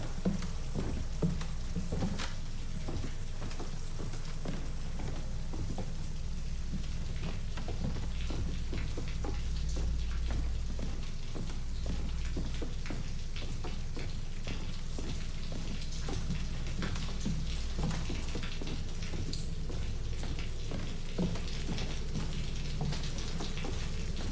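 Steady rain falls along a rain-soaked passageway in the Fatal Frame II: Crimson Butterfly remake, a constant dense patter with scattered sharper drops.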